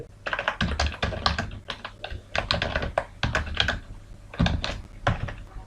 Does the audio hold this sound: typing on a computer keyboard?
yes